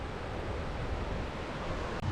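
Ocean waves wash steadily onto the coast beside a lagoon fringed by Norfolk pines near Broome, Australia, forming a continuous, close roar of surf with some wind.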